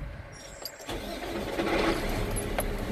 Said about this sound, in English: is get my truck started here